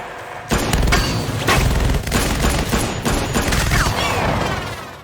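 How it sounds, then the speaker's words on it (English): Gunfire rings out in a movie battle as pistol shots bring down drones, a dense, loud barrage of overlapping shots and booms that carries on for several seconds before easing off. "A handful of pistol shots are actually enough to bring down these huge machines"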